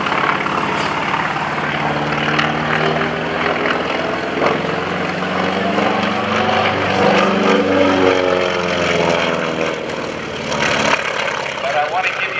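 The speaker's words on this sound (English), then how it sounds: "But I want to give you a chance to hear as much of that wonderful sound as possible. The sound of round, as some people call it." A Grumman FM-2 Wildcat with a radial piston engine flies a display at a naval air station airshow. Its loud, throaty drone holds steady while the pitch slides as it passes, with a voice speaking over it.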